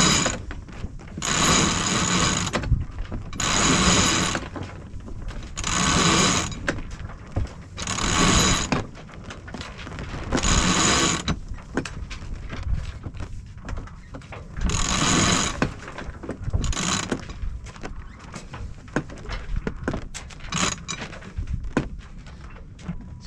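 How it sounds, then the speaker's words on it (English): Sailboat winch cranked in repeated bursts to haul in a sheet, a close, clicking ratchet whir alternating with pauses, on a singlehanded sailboat in calm air. "grab the sheet, start a little pull, use the winch to help,"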